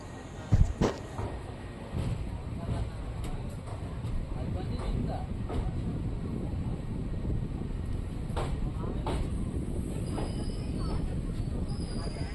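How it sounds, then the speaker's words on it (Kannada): Sindhanur Express passenger train running after leaving Yeshwanthpur in Bengaluru, heard as a steady low rumble of wheels and carriages with occasional sharp knocks and clanks near the start. "ಈಗ ಯಶವಂತಪುರ ಬಿಟ್ಟಿದೆ ನಮ್ಮ ಸಿಂಧನೂರು ಎಕ್ಸ್ಪ್ರೆಸ್"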